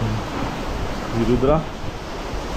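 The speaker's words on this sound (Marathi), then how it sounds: "हवा इतक्या जोरात चालू आहे, थंड बज रही आहे, गार गार वाटतंय." Strong, cold wind blows steadily across a hilltop road near the Bhimashankar temple, a broad roaring rush heard close to the microphone, while a voice speaks briefly over it.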